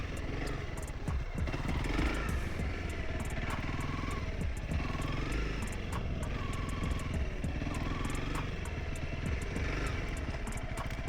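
A 300L dirt bike engine with a jerky throttle runs on rocky ground, droning loudly and steadily throughout with rough, clattering texture and no talk.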